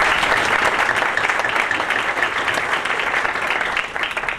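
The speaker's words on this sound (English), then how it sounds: "Let's give them a round of applause." Audience at a United Way campaign event breaks into a round of sustained, fairly loud clapping that tapers slightly at the end.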